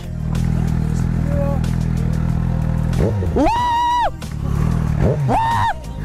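A new motorcycle, still being run in, idles with a steady, deep, close engine rumble while people talk over it.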